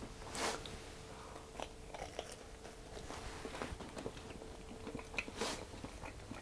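Someone bites into a buttered English muffin and chews, giving close, quiet crunchy bites and soft irregular mastication sounds that repeat over several seconds, with no talking.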